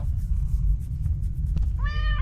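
A cat meows in the horror game The Stairway 7, a single short harmonic call near the end over a steady low rumbling ambience, with no talking.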